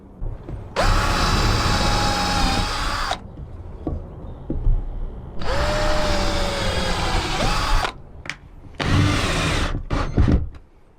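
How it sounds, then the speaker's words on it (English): A power drill bores angled pilot holes into wooden battens being fixed to a camper van floor, in three loud bursts of whirring with short pauses and small knocks between them, close by and with no talk. "I'll put some skew pilot holes through them, get them on the mark and screw them to the floor"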